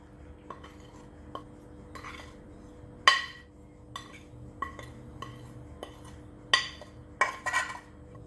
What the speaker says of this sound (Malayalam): ഇനി നമ്മൾ എടുത്തു വെച്ചിരിക്കുന്ന ചേരുവകളെല്ലാം കൂടി ചിക്കൻ മാറിനേറ്റ് ചെയ്യാൻ വേണ്ടിയിട്ട് മിക്സ് ചെയ്യാം നന്നായിട്ട്.